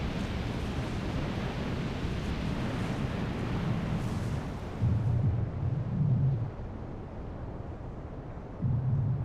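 Steam explosions burst where erupting magma meets a body of water, a broad roaring rumble with deep booming surges that swell and fade in uneven bursts.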